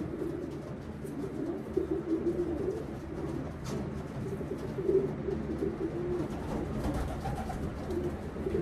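Race-winning racing pigeons coo in a low, continuous murmur, several birds overlapping steadily at moderate loudness with no talk.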